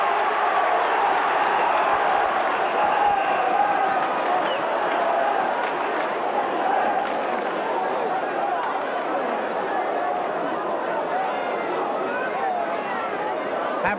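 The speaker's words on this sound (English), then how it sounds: "Roar the crowd. Terrific atmosphere." A rugby league crowd at St Helens versus New Zealand gives a sustained, far-off roar of cheering and chatter that holds a steady dense wash throughout without clear breaks.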